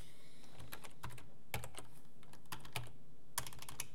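Computer keyboard typing in short, irregular bursts of sharp clicks, close and fairly quiet, with gaps between the keystrokes and no talking.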